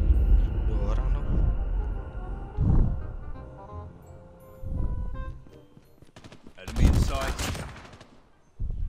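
Gunfire in the mobile shooter Call of Duty Mobile, several bursts of automatic shots and single cracks spaced across the stretch, loud and close, with a voice talking between them.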